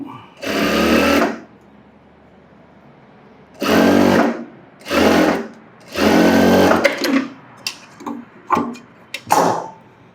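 A sewing machine runs rough stitches along a blouse hem in several close, loud bursts of whirring. Each burst is separated by quiet pauses, and short clicks and taps come near the end.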